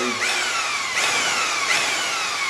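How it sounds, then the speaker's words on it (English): A power drill at a 1200 RPM setting whirs steadily, its pitch dipping in three repeated bursts as the trigger is pressed and the paddle drags through thick Venetian plaster mix. "if the drill is on a 1200 RPM setting, you don't want to hit the button really fast"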